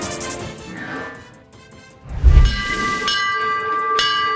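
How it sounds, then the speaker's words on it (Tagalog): A school bell rings for afternoon dismissal at an elementary school in Samal, Bataan, Philippines, giving clear sustained metallic tones over outdoor background noise after a low thump. "Pasado alas 2 ng hapon nang patunugin ng bell sa Kalagiman Elementary School sa Samal, Bataan."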